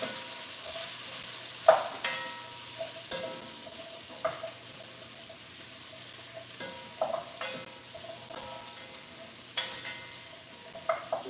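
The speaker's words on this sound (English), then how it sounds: "saute this a bit so the onions get a little translucent. Squash gets a little bit of color." Onions and squash sautéing in a pan, a soft continuous sizzle broken by repeated clacks and scrapes of stirring at irregular intervals, close and fairly quiet.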